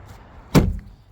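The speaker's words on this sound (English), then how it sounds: "gotta make sure you shut your door so the rain doesn't get in" A single solid thunk as the door of a 1972 VW Beetle is shut, close and brief, with quiet background before and after.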